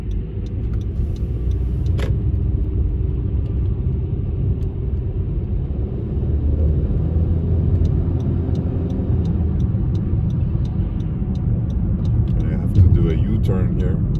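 A car drives along the Grand Parkway near Katy, Texas, with a loud, steady interior road rumble and engine drone throughout and a few faint clicks.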